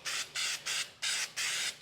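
Spray can of bed liner coating the inside of a fender, five short hissing bursts with brief pauses between them, close and fairly quiet, no voices.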